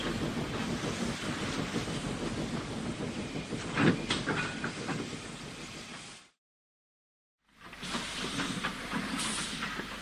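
A storybook steam engine puffs through a railway junction, a steady broadband chuffing and rolling rumble heard alone and fairly loud, broken by a brief silent gap before the train noise resumes.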